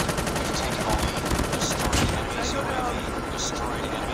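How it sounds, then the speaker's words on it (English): Gunfire and a hovering stealth helicopter in the Call of Duty Mobile video game, a dense steady roar of rotor noise mixed with rapid shots, loud throughout under a game announcer's voice. "Hostile stealth chopper inbound."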